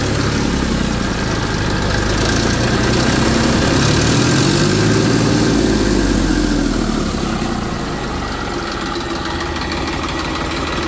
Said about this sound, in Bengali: এই যে গাড়ির সাউন্ড বাড়াইতেছি